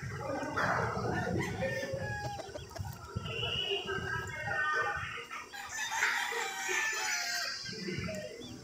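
Roosters crow repeatedly in a backyard poultry yard, loud drawn-out calls overlapping amid steady clucking from other chickens and low background farm noise.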